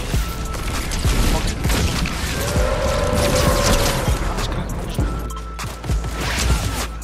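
Shotgun fire in the video game Fortnite: rapid bursts of gunshots and mechanical clatter over game sound, with players talking excitedly throughout.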